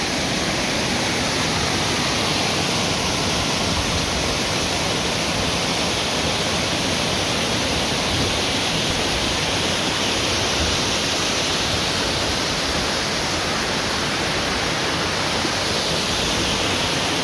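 Water roaring down the Șipot waterfalls, a dense, constant, loud rushing hiss with no break, heard up close and alone.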